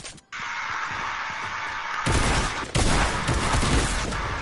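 Gunfire in a Fortnite-style video game, a dense continuous stream of close, loud shots that grows heavier about halfway through, with no pauses between bursts.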